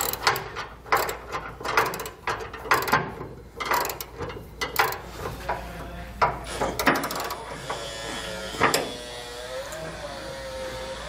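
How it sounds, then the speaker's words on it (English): A ratchet with a 13 mm socket tightens a flange nut on the locking pin of a 5th wheel trailer hitch: rapid clicking strokes in repeated bursts, close and crisp, fading to quieter clicks and a squeak near the end. "We're going to come back with a 13 millimeter socket and tighten down our flange nut"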